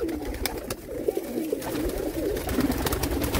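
Rolling, repeated coos come from a group of pigeons at a Jammu sale, close and steady, with brief sharp taps and fluttering scattered throughout.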